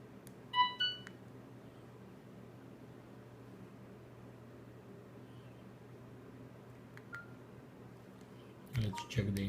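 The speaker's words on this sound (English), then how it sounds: "Let's power on the phone." A Samsung E2202 Duos mobile phone powering on gives a short burst of electronic startup beeps near the start, then quiet hum and a final clatter of handling noise.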